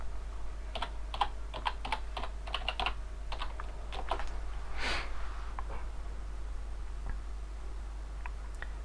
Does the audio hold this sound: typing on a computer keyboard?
yes